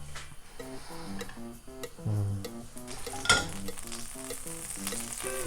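Butter melts and sizzles in a pan over medium-low heat, a quiet crackle and hiss under light background music, with one brief sharper clink.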